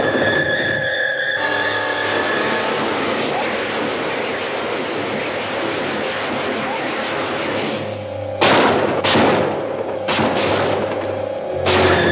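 Artillery fire in a 1956 science-fiction film makes a loud, continuous roaring rumble, then several sharp, heavy blasts crash in toward the end, close and dense.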